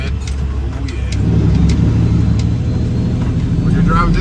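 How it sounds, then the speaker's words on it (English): A car's engine and tyres pass close by, loud and steady, blending with the drone of a truck driving through a muddy solar plant site, while someone talks over it. "And I got a car coming right here."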